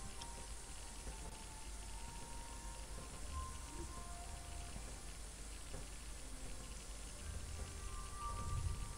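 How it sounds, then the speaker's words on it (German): Steady rain in the survival game The Last Haven, a continuous soft hiss of drops with faint scattered tones and a low rumble, heard alone and fairly quiet. "Ja, es regnet."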